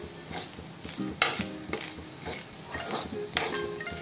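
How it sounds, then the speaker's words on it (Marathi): Soya chunks fry in a pan until browning, a soft steady sizzle with several sharp metallic scrapes and clinks of a spoon stirring against the pan, close and fairly quiet. "सोय सामके मातशे ब्रावन जावसर भाजूंक जाय।"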